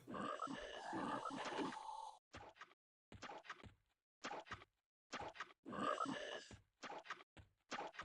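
Frogloks walk in the EverQuest video game, a string of short, soft, croaky grunting bursts separated by silent gaps, quiet and close.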